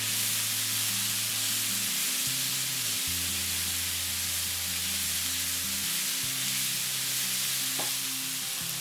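Taco filling with chopped cilantro being stirred in a hot pan, giving a steady soft sizzle with low scraping and stirring movement underneath, close and continuous with no talking.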